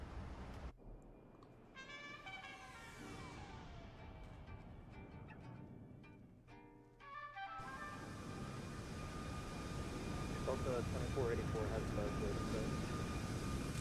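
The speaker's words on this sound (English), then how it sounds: "So it's a nice Southwest 737 MAX" A Southwest Boeing 737 MAX airliner passes at a distance, its faint roar swelling through the second half after brief tones and muffled radio-like voices.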